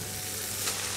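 Rice tipped into a hot pan of frying cauliflower and chickpeas, giving a steady, close sizzle with a brief rustling swell as the grains land.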